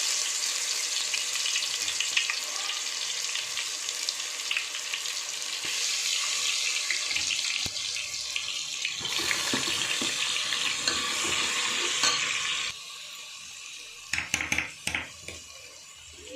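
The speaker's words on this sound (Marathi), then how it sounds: "आता आपलं तेल गरम झाले, त्यात आपण मसाले टाकून घेऊ." Spices and ginger paste fry in hot oil for a chicken curry, a loud, steady sizzle with splashy, watery hissing up close that fades near the end to a few clattering knocks, and no talking.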